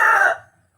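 A rooster in Bohol gives the loud, close tail end of a crow, a short raspy call that fades away within half a second.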